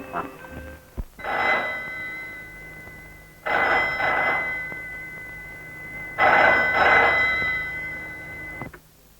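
Old-style telephone bell in a Malayalam drama scene, ringing in three long bursts with short pauses between them, close and fairly loud, with no talk over it.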